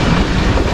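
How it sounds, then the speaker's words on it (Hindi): A 28 Down Shalimar Express train pulls out of Kanpur junction station in Pakistan, a brief, steady, close rumble of rolling carriages with no voices. "28 डाउन शालीमार एक्सप्रेस रवाना हो रही है कानपुर जंक्शन रेलवे स्टेशन से।"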